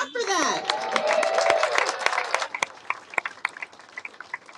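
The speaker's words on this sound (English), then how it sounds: "yeah, clap for that." An outdoor crowd claps at a Palm Springs Walk of Stars dedication for Dionne Warwick; a voice is heard at the start, then scattered, moderately loud clapping tapers into sparse claps.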